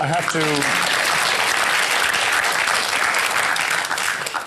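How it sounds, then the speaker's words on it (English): Sustained audience applause from a studio crowd at an Australian TV panel discussion, loud and dense throughout, with a brief voice fragment at the start. "I would have expected more applause for a cheap point like that."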